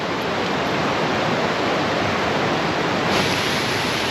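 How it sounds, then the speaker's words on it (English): Lower North River Falls pours in a constant loud broadband roar, a dense unbroken wash of falling water heard close and alone. "That falls is gorgeous. There we go. Lower North River Falls."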